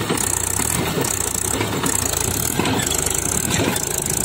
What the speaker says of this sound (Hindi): हल्का सा सरक रहा ट्रैक्टर।